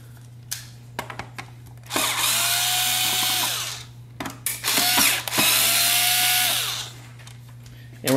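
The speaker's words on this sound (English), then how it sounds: "The next step, we're going to take these two screws out over here." A power drill backs two screws out of a Brinks security lock box in two sustained whirring bursts, separated and framed by sharp clicks and handling knocks.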